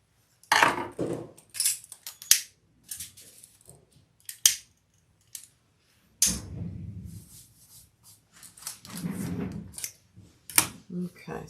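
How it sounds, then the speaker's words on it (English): Scissors snipping off excess zipper tape during a sewing session, a few sharp close snips and clicks scattered among handling noises, with people talking intermittently. "Trim off your excess zipper tape."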